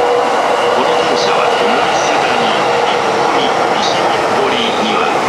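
A rapid train bound for Ōmiya pulls into platform 4 at Kanda station, a steady loud rumble of rolling cars and wheels filling the platform while a station announcement plays over it.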